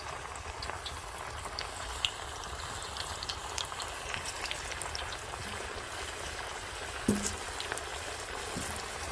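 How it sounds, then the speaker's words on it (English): Potatoes deep frying in hot oil, giving a steady dense bubbling crackle with scattered pops that holds at an even level throughout, with no voices. "Deep fry those potatoes."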